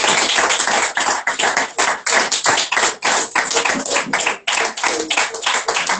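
A church congregation claps loudly in a dense, continuous round of applause, with many hands close by and a few brief dips in the clapping.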